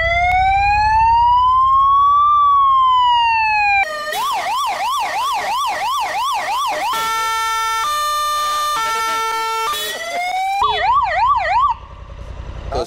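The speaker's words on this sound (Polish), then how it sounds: "Sygnały mogę zmieniać z pokładu." Siren of a motorcycle ambulance, loud and close, cycling through several patterns: a slow rising-falling wail, rapid yelping warbles and a steady two-tone alternation, with no talk.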